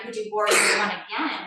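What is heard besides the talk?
sneeze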